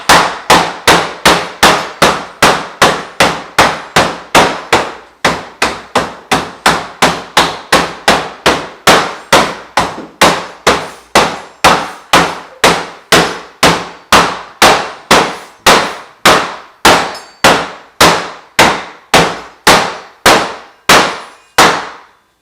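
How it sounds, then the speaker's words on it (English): A heavy hammer pounding ice to crush it for cocktails, dozens of loud, sharp clanging strikes in a fast, steady rhythm, close and without talk. "I wanted to crush it for you so you could just experience the loud nature of crushing ice"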